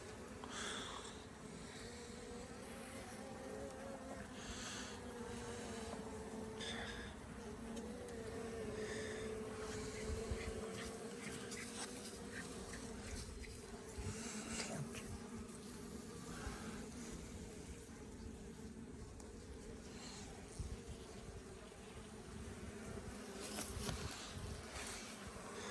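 Honeybees swarm around hives on a farm, a dense continuous buzzing hum with individual bees droning close past the microphone, steady and fairly loud throughout with no talk.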